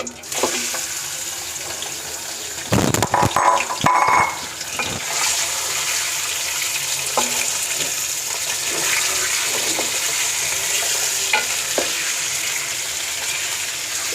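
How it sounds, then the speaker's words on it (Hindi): Chicken pieces hit hot oil in a karahi with a sudden burst of crackling, settling into a steady, loud broadband sizzle that continues alone. "ऑयल गर्म हो गया है, अब हमने इसमें चिकन डाल देनी है।"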